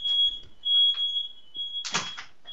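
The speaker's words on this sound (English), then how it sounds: "we've got an alarm going off" A smoke or fire alarm sounds indoors as a steady, high, continuous electronic tone, moderately loud, with brief bumps and rustling around it and a louder burst of noise near the end.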